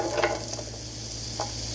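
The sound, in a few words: onions sizzling in butter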